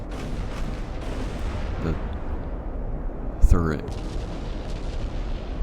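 An 8-inch naval gun on an Admiral Hipper heavy cruiser fires once in a naval warfare video game, a single sharp boom with a rumbling tail under steady background noise and talk.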